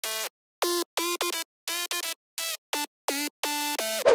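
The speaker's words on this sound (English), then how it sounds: "So this is my main lead." Bright, harmonic-rich synth lead preset for a future house drop plays a choppy staccato melody of short, separated notes with gaps of silence between them, clear and alone with no talking.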